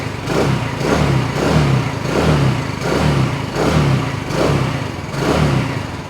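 A Peugeot Django scooter engine runs at idle with a deep, bassy, rhythmic throb, pulsing steadily about once a second, close and fairly loud with no talk.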